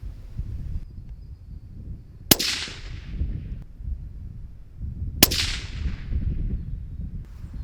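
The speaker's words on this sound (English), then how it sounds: "Let's put the last two bullets down range." Two sharp rifle shots from a Remington 783 Varmint fired downrange, several seconds apart, each a loud crack with a trailing echo over low outdoor rumble.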